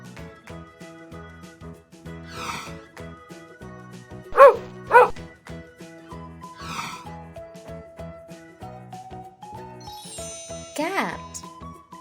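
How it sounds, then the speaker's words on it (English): A dog gives two sharp, loud barks in quick succession over bouncy, jingly children's music, which keeps playing before and after the barks. "dog,"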